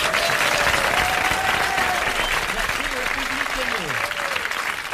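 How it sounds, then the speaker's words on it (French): A studio audience breaks into sustained, loud applause for the comedian Sim on a 1981 French television show, dense clapping throughout with a voice speaking over it. "Et combien ces applaudissements sont mérités?"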